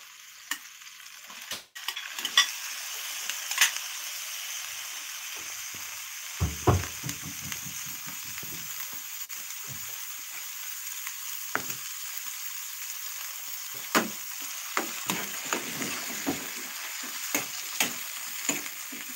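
Garlic, onion, tomato and chicken are sautéed together in a pan for spicy ginataang langka. A steady, fairly faint sizzle runs throughout, broken by occasional scrapes and clacks of stirring.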